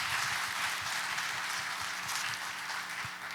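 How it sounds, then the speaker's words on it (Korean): A talk-concert audience applauds steadily for the whole stretch, a full, even wash of clapping with no voices over it. "박수 부탁드리겠습니다"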